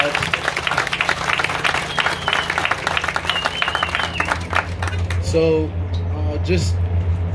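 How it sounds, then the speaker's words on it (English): Crowd clapping and cheering at a mural unveiling outdoors, dense applause over several seconds that thins out near the end, with voices mixed in. "So everybody, please clap it up for that."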